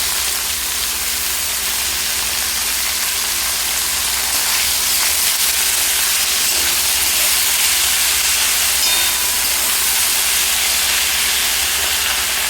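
Fenugreek greens dry-frying in a pan give off a steady, fairly loud sizzling hiss that runs unbroken for the whole stretch, with no one talking.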